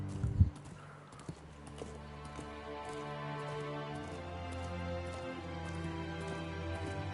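Horse hooves clip-clop in a Game of Thrones video game, a steady walking rhythm of soft beats under a continuous low musical drone, with no one speaking.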